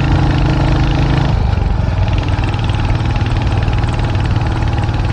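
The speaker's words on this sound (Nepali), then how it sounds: "कस्तो गाह्रो भइरहेको छ क्या यो बाइकले तान्नलाई" A loud motorcycle engine labours steadily uphill under load, its low rumbling drone continuous and close, with a brief change in tone early on before settling into a sustained throb.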